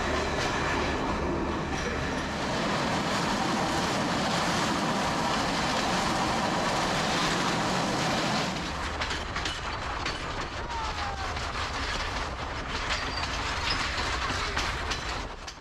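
A train runs along the Kandy to Ella jungle railway, with a steady loud rumble and rhythmic clickety-clack of wheels; after about eight seconds the low roar eases into lighter rattling and clatter with occasional faint squeals.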